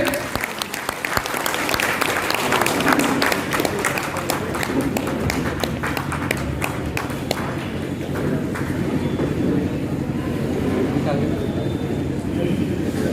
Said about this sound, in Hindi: जोरदार ताली से हम उनका स्वागत करेंगे।